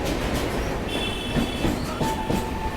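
A Sealdah–Dankuni local train rolls into Bally Halt, a loud continuous rumble with rhythmic wheel clatter over rail joints and faint metallic squeals, heard from on board.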